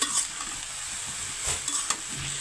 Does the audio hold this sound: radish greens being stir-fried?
yes